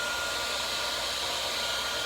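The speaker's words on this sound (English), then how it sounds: "I still got the blow dryer going" A blow dryer runs steadily over a fluid-art paint pour with a constant loud whooshing hiss, unbroken from start to finish.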